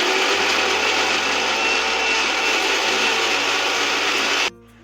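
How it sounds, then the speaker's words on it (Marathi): Electric mixer grinder grinding chilies, garlic, ginger, salt and sugar for a raw mango dal: a loud, steady whirring motor with shifting pitch, stopping abruptly near the end. "चला आपण आता याचं मिक्सरला वाटण करून घेऊया."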